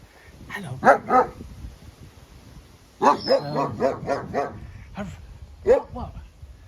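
A dog barks close by in two loud bursts of several quick barks, then gives a single later bark, with people talking around it.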